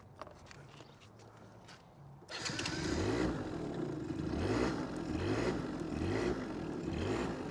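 A Yamaha Zuma Bugeye scooter starts after a couple of seconds of quiet, then settles into a low, slightly uneven idle with faint rhythmic pulsing, heard close and alone.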